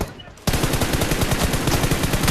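Rapid automatic gunfire from PUBG Mobile bursts in after a brief quiet moment and continues as a loud, dense stream of shots for about two seconds.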